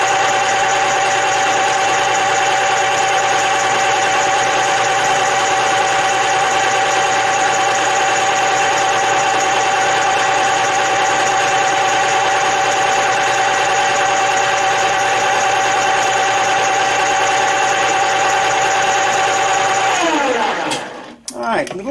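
Lathe facing a workpiece held in a collet chuck, running as a loud, steady, humming drone for about twenty seconds before it winds down abruptly.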